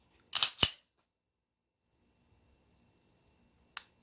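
A Taurus GX4 pistol with a trigger fault is dry-fired and reset: a quick pair of sharp mechanical clicks close by, a couple of seconds of near silence, then a single crisp click, with no talking.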